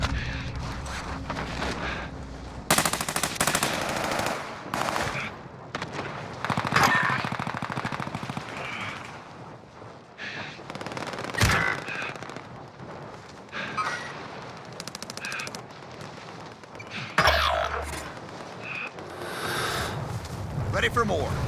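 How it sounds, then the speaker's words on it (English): A cluster airstrike in Call of Duty Warzone, heard as rapid gunfire, booms and dense rolling explosions sustained throughout, loud and close, with in-game voice announcements mixed in. "Cluster strike is active."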